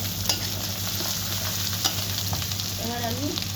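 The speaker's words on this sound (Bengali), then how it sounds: "পেঁয়াজটা আমার খুব দারুণ লাল লাল করে ভাজা হয়ে গেছে।" Onions fry in a pan with spices such as cumin and onion paste, a close, continuous sizzle with scraping stirring strokes throughout.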